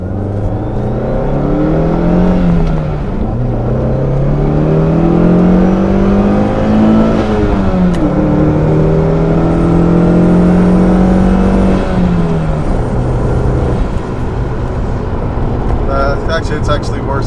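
A 2.4L turbo car accelerates up an on-ramp, its engine note climbing through several gear changes in rising and falling sweeps, loud and close from inside the cabin, with a turbo whistle up high.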